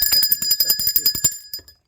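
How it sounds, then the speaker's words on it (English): A small bell rings rapidly about a dozen times, bright metallic dings in quick succession, then a short trailing ring fades out. "Let's ring the bell for that."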